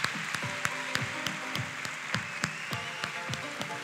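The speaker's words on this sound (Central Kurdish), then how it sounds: "و چەپڵەیەکی قایم بۆ خۆتان لێن" An audience at a Golden Crown festival applauding: steady, dense clapping throughout, with a loose rhythm of louder individual claps standing out from the crowd, and no voices.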